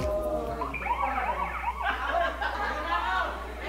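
An alarm going off with a rising and falling wail over a constant low hum, under chatter and laughter.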